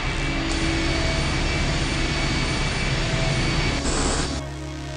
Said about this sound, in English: I'll be damned. The engine's starting up again.